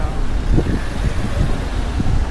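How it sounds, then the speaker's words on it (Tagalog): Steady wind rumbles and buffets the microphone at the open-air Umeda Sky Building observatory in Osaka, with low gusty noise and faint distant traffic underneath. "So, hangin ngayon. Medyo cool yung breeze niya."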